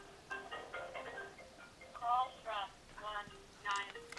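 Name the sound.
phone ringing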